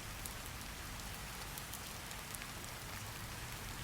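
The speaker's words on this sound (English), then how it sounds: "let the steady rhythm of the rain guide you gently into the story" Steady rain falls continuously, a dense even patter with scattered brighter drop ticks, soft and unbroken with no voices.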